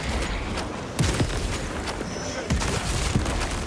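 Heavy bolt sniper rifle shots fired in Warhammer 40k Space Marine 2, several booming reports spaced apart amid dense battle noise and distant combat clutter.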